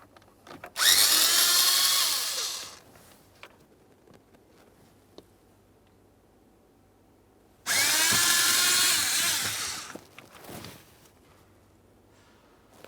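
A power screwdriver runs in two loud sustained bursts as Phillips head screws are backed out of the cabin air filter tray on a Ford Fusion, with quiet handling clicks between them and no talk.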